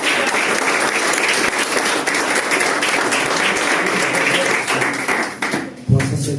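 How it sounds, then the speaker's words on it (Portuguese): A church congregation at a Sunday service breaks into sustained, dense applause that fills the room, then tapers off near the end. "Aplauda Jesus, meu Deus."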